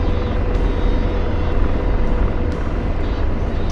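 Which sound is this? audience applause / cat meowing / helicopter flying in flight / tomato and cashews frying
helicopter flying in flight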